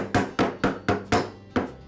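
The outer spool of a Ryobi hedge trimmer is tapped onto the shaft nut in six sharp, evenly spaced knocks, each close, loud and ringing briefly before the next.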